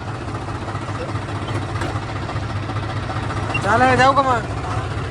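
A tractor engine idles in a low, steady diesel rumble close by, with a voice speaking briefly over it near the end.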